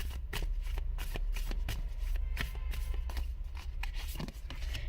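Tarot cards are shuffled by hand in quick, crisp riffling bursts, close and fairly quiet, a rapid papery flutter repeating through the moment with no voices.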